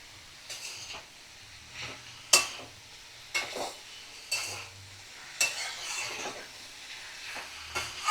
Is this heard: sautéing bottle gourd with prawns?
yes